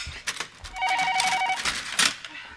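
An old telephone bell rings indoors in a 1989 Korean family drama, a loud, close, rapid metallic trill lasting about a second amid room noise and a few knocks.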